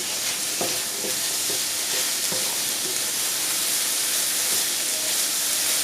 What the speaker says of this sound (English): The onions are sauteing nicely